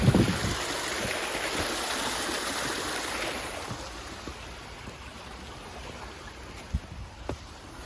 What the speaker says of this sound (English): Another little river crossing, stream crossing.